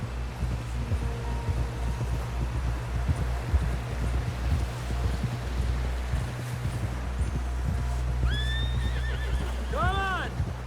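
Horses in the Red Dead Redemption 2 video game clop along steadily, hooves thudding throughout, until a loud, shrill whinny rises near the end.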